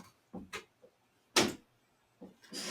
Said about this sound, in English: Should I close the door behind me?